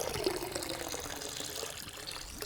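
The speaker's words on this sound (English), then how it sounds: "Here comes the waterfall noises" Backyard pond waterfall spilling into a bog filter: a faint, continuous trickling splash of flowing water, even and unbroken, heard from a short distance with no voices.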